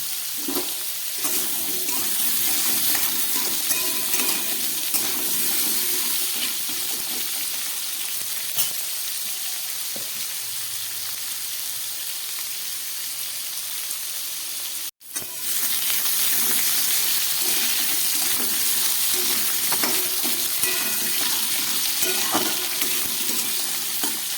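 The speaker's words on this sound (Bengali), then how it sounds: "আলু, মূলো আর পেঁপেটা অনেকটা ভাজা হয়ে গেছে।" Potato, radish and raw papaya fry in a pan with steady, close, hissing sizzle that runs on at an even level, broken once by a momentary gap, without speech.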